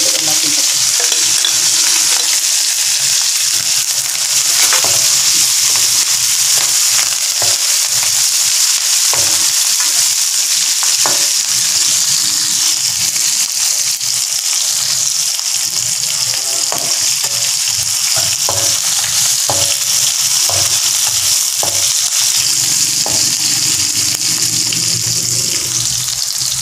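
Onions, curry leaves, green chillies and garlic frying in a pan for snake gourd kootu, a loud, continuous close-up sizzle broken by repeated scraping stirs, with no voices.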